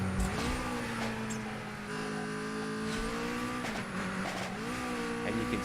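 A race car in Super Street: The Game takes a corner. Its engine note rises and falls continuously while tires squeal briefly, all close and steady, with no voices.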